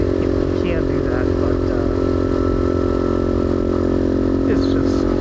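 A modified Gryffin 250 motorcycle rides along with a steady, loud engine drone and mid-range hum, the sound constant throughout with light clatter and wind noise mixed in.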